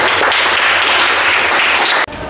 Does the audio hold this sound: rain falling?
no